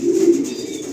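A ten-year-old Belgian racing pigeon from 2016 coos loudly and close, one low rolling call lasting under a second.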